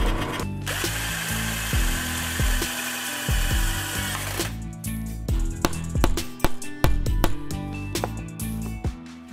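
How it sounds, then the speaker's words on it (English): Power drill driving threaded inserts into a carbon fiber guitar's heel block, with repeated short whirring bursts and ratcheting stops, loud and close, in a workshop. "I think what I'm going to do is install these threaded inserts into the block"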